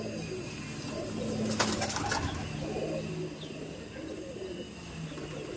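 Low, rolling cooing of a male Chennai Madrasi pigeon, repeated steadily and close, with a short burst of brighter noise in the middle.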